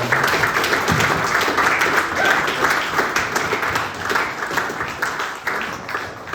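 A crowd applauds steadily, dense clapping from many hands sustained throughout at a fairly loud level.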